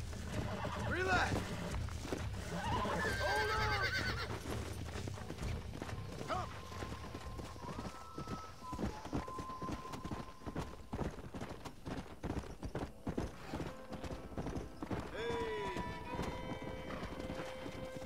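Horses in Red Dead Redemption, hooves clip-clopping in steady walking rhythm at moderate distance with an occasional whinny, under someone speaking and ambient game sounds.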